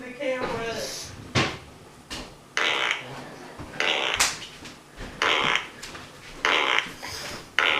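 Short, sharp fart noises burst out repeatedly at irregular intervals, each a brief loud blast separated by quieter pauses with some background voices, during a fart noise challenge.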